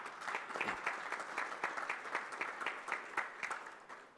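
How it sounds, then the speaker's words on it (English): Conference audience at the 9th CII India-LAC Conclave applauding, a steady patter of many hands clapping, fairly faint and distant, with no talk over it. "can we give India a round of applause for their wonderful hospitality"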